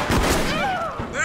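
Rapid gunshots in the multiplayer game Deceit: a few sharp, loud cracks in quick succession, with voices overlapping.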